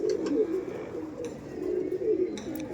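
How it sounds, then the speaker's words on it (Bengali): A male pigeon coos in a loft, a steady low cooing run lasting a few seconds, fairly close, with faint bird chirps and a brief voice in the background. "এটা পাঠা পায়রা আছে"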